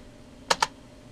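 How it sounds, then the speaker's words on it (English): Two quick, crisp keystrokes on a computer keyboard, close and distinct against a quiet room hum, with a hint of a third at the very end. "I'm typing as I'm looking in the viewfinder"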